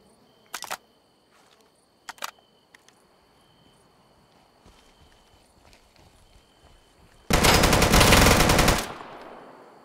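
Gunfire in the survival shooter game Deadside: two short bursts early on, then a long, loud burst of rapid fire near the end, over a quiet background.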